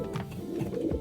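A pigeon cooing close by, several soft, low throaty coos in a repeating rhythm, with no talking.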